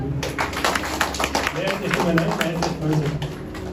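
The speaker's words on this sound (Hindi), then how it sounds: "ताली बजाओ" A gathering of people claps their hands in a steady, scattered patter of many claps close by, with a voice talking over the clapping throughout.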